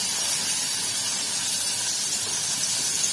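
Peanuts frying in hot oil with curry leaves and green chillies for a fasting dosa, a steady, close, bright hiss that holds evenly throughout with no voices.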